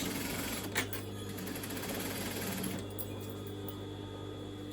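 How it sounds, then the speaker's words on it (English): A sewing machine understitches the waistband of a crushed polyester velvet skirt, running as a steady, continuous mechanical whir at moderate volume throughout, with no pauses or voices. "So I'm just understitching on that, so it's going to be inside the skirt."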